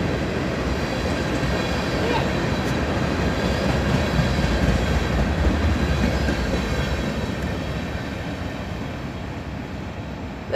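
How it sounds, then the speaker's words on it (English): A BNSF military train carrying containers rolls past close by in Folkston, Georgia, a loud continuous rush of wheels and rail noise with rhythmic clatter holding steady for the whole stretch. "Bnsf military train."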